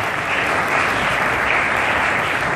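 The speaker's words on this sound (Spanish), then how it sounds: "un aplauso por favor para Grecia" Loud, continuous applause at a press conference fills the whole moment, a thick even roar of many hands clapping with no break.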